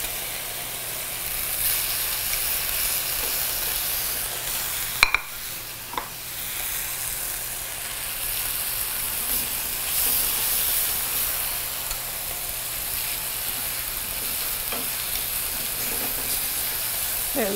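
Chicken pieces frying in a pan make a continuous, even sizzle and hiss, with a couple of brief utensil knocks partway through, no talking.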